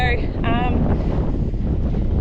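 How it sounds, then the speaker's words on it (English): Wind roars and buffets the microphone throughout, a constant low rumble, with a voice briefly speaking at the start. "it's probably a bit too windy"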